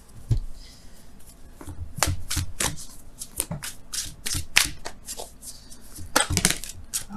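Oracle cards being shuffled by hand in a series of quick riffling and rubbing bursts, crisp and close, with no talking.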